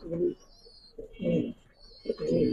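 A Spanish Gorgoria pouter pigeon, a male, coos in three low, throaty bursts close by, with faint high chirps from other birds in the background between them.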